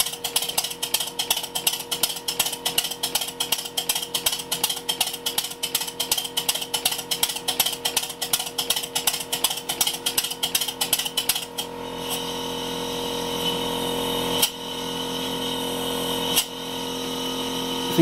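Miniature steam locomotive built by a beginner, run on compressed air for its first test: rapid, even mechanical chuffing beats close by for about eleven seconds, then a steady hissing exhaust with a couple of sharp knocks.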